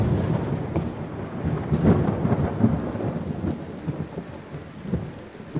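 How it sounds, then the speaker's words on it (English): Steady rain falls hard and continuous, with low rumbles of thunder rolling underneath throughout, no voices present. "The rain was steady"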